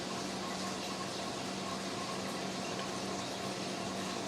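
Hot water pours steadily over apples and cranberries in a drink container, a continuous broadband rushing and splashing that holds even and fairly loud throughout, with no talk.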